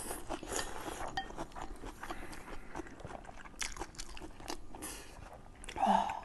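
Close, crunchy chewing and biting of green vegetables alongside roasted duck, with soft utensil clinks and occasional faint speech.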